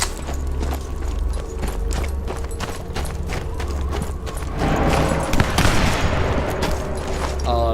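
A turret machine gun rattles in Sniper Elite 4, with dense, loud rapid-fire bursts going on without a break and growing harsher and heavier toward the end, and no voices over it.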